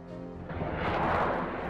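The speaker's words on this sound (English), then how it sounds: "missile launch off an F-4" An F-4 fires a missile in Command: Modern Air/Naval Operations, set in a 1967 scenario. A steady humming tone gives way to a loud, swelling rush of launch noise that roars for over a second.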